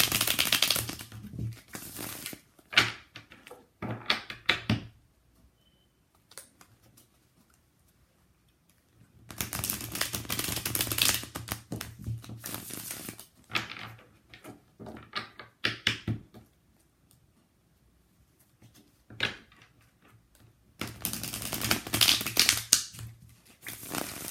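Tarot cards are shuffled in three separate bursts of rapid riffling and flicking, close by, with quiet pauses between each round.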